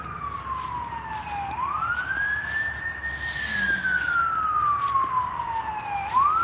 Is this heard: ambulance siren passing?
yes